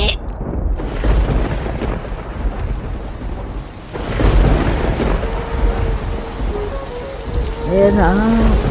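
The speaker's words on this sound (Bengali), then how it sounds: "ঝড় বৃষ্টি শুরু হয়ে গেছে।" Heavy rain pours down steadily with rolling thunder rumbling through a storm, loud and close; a voice speaks briefly near the end over the downpour.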